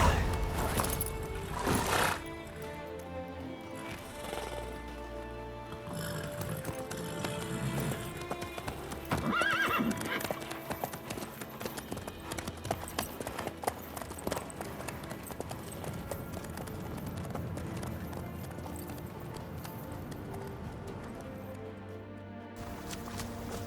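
A horse galloping in the video game The Witcher 3, with continuous rapid hoofbeats and a whinny, heard under a full game soundscape of music and ambience, steady in level over the long stretch.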